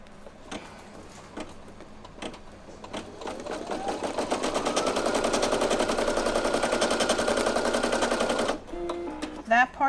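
A Brother PE800 embroidery machine stitches applique onto fabric, starting with scattered clicks and short bursts before settling into a fast, steady mechanical rattle that runs several seconds, then stops abruptly with a few clunks afterward.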